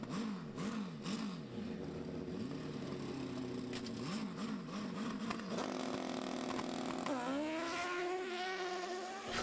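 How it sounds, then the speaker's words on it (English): Nitromethane-fueled drag racing dirt bikes on a dirt strip, heard from a distance as a buzzing, rising and falling engine whine with repeated revs, then a climbing wail as a bike accelerates away, steady and fairly faint. "This is nitromethane fueled drag racing down a dirt strip."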